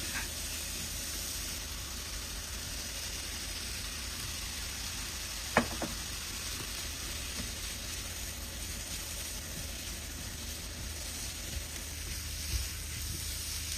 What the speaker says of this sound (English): Stir fry for another 2 minutes.